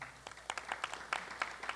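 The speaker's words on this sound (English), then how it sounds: "it's okay to clap." An audience at a school celebration-of-learning event claps sparsely and faintly, scattered individual claps in an uneven rhythm, heard from a distance without speech.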